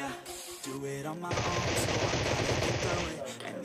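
MK rifle fire in PUBG Mobile, a rapid burst of loud, dense gunshots lasting about two seconds after a brief voice at the start.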